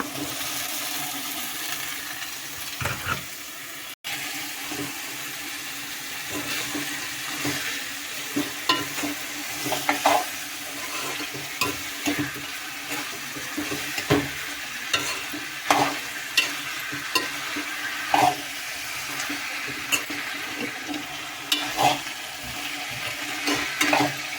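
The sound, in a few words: broad beans cooking in a pan with salt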